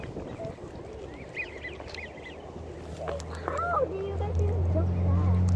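Several ducks quack nearby in a park in short bursts while a low engine-like hum builds steadily underneath and grows louder toward the end.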